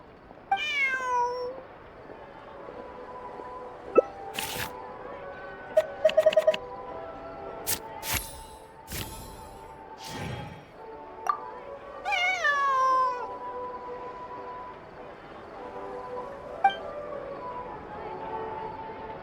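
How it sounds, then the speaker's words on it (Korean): A cat meows several times with drawn-out, wavering cries, moderately loud, over a quiet background of game sounds from Genshin Impact and occasional clicks, with someone talking. "저희 사랑의 집에서 잃어버린 고양이 같아요"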